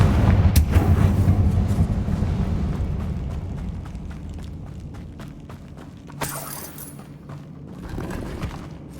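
Heavy booming spell blasts from the fire spell Confringo in Hogwarts Legacy, cast inside a mine: a dense rumbling explosion opening loud and fading, then sharper crackling bursts near the end, with no talk.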